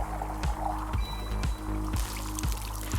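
Tea being poured out in the cozy video game Wanderstop, a soft liquid splash under steady rhythmic background music with no talking.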